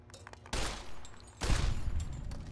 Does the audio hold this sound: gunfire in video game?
yes